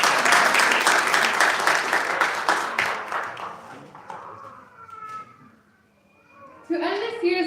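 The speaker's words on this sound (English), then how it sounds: "Can everyone please give them another round of applause?" Crowd applause after a performance at a Pakistan Resolution Day flag raising ceremony, dense clapping at first that thins and fades, followed by a pause and then a voice speaking.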